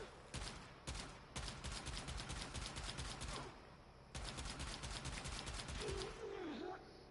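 A gun fires in the video game Warframe in rapid, close, continuous volleys, broken by a couple of brief pauses, with a faint voice near the end.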